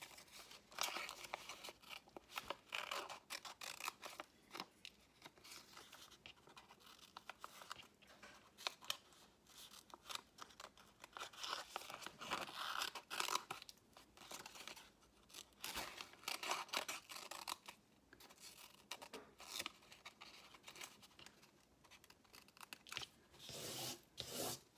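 Scissors cut a tab out of paper for a paper castle craft, a busy close run of snipping, rustling and crinkling that continues without a break.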